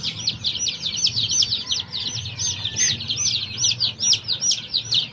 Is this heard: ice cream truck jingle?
no